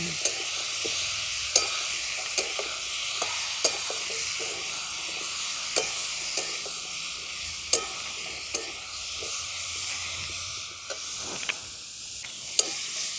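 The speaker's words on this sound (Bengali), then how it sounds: "সব কিছু একসঙ্গে ভালো করে নেড়ে নিচ্ছি" Spices with salt and turmeric stirred in a frying pan, cooked village-style for sambar, keep up a steady hissing sizzle marked by regular sharp spatula clicks against the pan, close and without talk.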